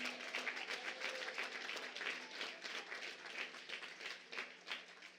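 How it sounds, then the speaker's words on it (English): Audience applause after a governor's remarks at a National Action Network King Day public policy event, a steady dense round of clapping held at moderate level for about five seconds with no talk. "Let's give him a round of applause."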